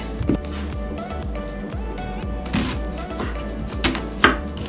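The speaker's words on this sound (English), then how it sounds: "I'm just slicing my red onion." A red onion being sliced with a knife on a cutting board: a quick run of crisp, even chopping taps, close and fairly loud, with no talk during the cutting.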